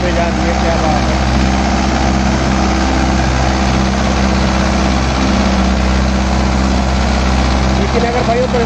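A Mahindra Yuvo 575 4WD tractor engine runs at a steady idle, a loud, constant low diesel hum that holds unchanged from start to finish.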